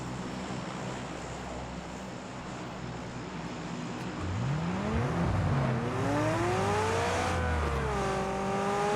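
A McLaren car in a driving video game roars along at speed, its steady engine drone rising into gliding, revving pitch sweeps as it accelerates, loud and close with no talk over it.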